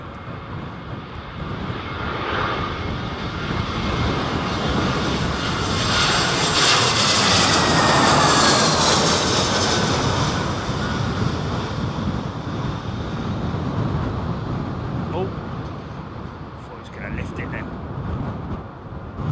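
Aircraft engines roar steadily as planes land at Heathrow airport during Storm Isha, a loud sustained rumble swelling toward the middle and mixed with heavy wind buffeting the microphone throughout.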